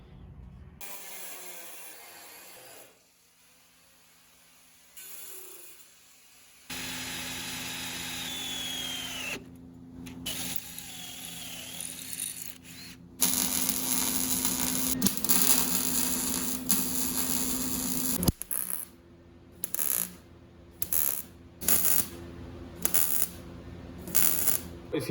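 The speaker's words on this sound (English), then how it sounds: "I'm gonna finish welding that and grinding that down real quick" Welding and grinding on thin car body metal during Corvette body-swap prep: a steady grinder whine, then a rapid series of short crackling tack-welding bursts over a shop hum, close by.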